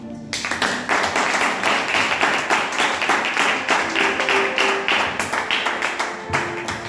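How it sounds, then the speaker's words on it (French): Dense, sustained applause from an audience at a church singing contest, steady rapid clapping filling the whole stretch with no talk over it. "Nous demandons au public là, ça applaudit Luna."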